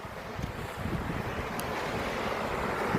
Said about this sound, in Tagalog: ang ingay ng alon hampas ng alon malakas